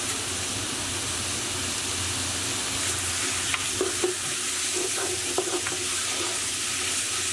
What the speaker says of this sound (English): Next, we'll add our diced lamb.